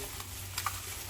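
Pork chops being mixed thoroughly into their marinade give a brief, soft stirring squelch, quiet and close, with no talking.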